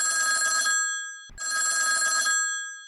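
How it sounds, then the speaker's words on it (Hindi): A telephone rings in a Hindi farm advisory radio call-in program, two loud electronic ring bursts separated by a short pause, with no talk over them. "एक फोन आता है।"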